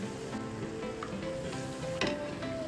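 Bread pakoda deep frying in hot oil, a steady dense sizzle holding throughout with a brief louder crackle near the end, close and alone without voices.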